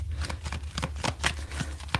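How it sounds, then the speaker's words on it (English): A deck of tarot cards being shuffled by hand, a series of quick, soft riffling bursts close by in a quiet room, roughly a dozen light flicks in steady rhythm. "let me shuffle them up right quick"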